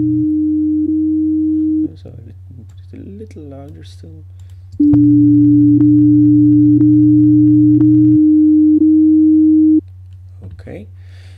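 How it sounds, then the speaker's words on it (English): Sine wave tones play from OpenMusic software, steady pure notes that stop and restart at intervals, while someone talks over the tones and computer keys click. "at least a sine wave will play"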